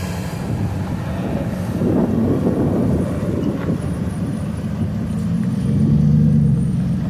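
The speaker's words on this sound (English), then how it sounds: "Oh, wow, that's a cool Super Duty Ford." A Ford Super Duty truck engine rumbles steadily at a truck show, a constant low broadband drone with a slight rise toward the end, with wind noise on the microphone.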